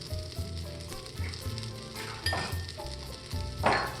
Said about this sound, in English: Let's toss in a knob of butter.